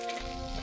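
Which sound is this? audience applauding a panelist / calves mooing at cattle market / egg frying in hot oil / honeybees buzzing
egg frying in hot oil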